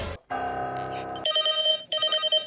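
A phone rings nearby, loud and clear, with an electronic ringtone in bright repeating bursts separated by short gaps, heard alone without talk.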